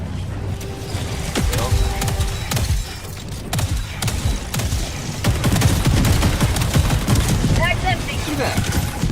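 A deployed sentry turret firing in Helldivers 2, loud rapid bursts of gunfire with thuds and explosions through busy battle noise, with voices in the mix.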